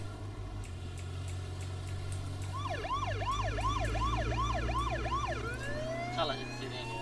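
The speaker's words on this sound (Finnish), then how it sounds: "Salasid sireeni või?" Wailing siren in the H1Z1 video game, a rapid rising-falling yelp repeating about eight times over a low engine rumble, loud and close, with a voice speaking briefly at the end.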